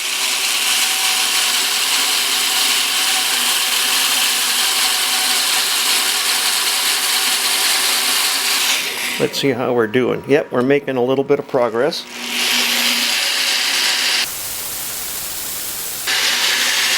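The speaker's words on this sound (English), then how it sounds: "I'm using an electric drill, not a battery operated drill." A corded electric drill boring through a very hard steel plate gives a long steady whine for several seconds, then a harsher grinding, stuttering stretch and a brief stop as someone talks over it.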